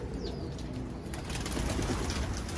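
Racing pigeons in a loft give soft, low coos up close, murmuring under a constant hiss of background noise.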